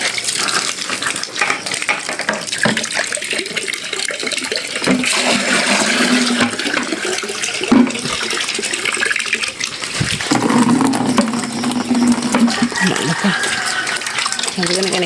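Water gushing steadily into a container, a continuous rushing pour under a voice talking nearby.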